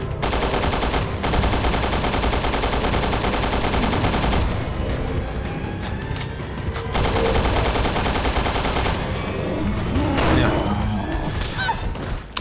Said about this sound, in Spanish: Vale, ametralladora.